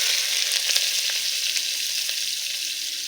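Chopped onions sizzle and fry with mustard seeds in a hot pan, a steady bright hiss with small pops and crackles throughout, close and continuous with no talk.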